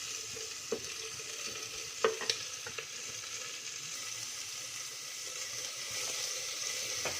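Green chili and sliced onions frying in oil with cardamom, a steady low sizzle with a few sharp spoon clinks and stirring scrapes, no voices.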